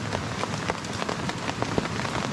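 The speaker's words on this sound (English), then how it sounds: "far more rain than I was aware of being in the forecast, it looked more sporadic" Heavy rain pours down in a wilderness forest near creeks, a dense steady hiss with sharp close drops spattering on surfaces, loud and unbroken with no voices.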